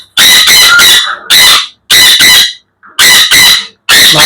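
Sun conure parrots in a pair, shrill harsh squawks in rapid bursts of two or three, very loud and close, separated by short silences.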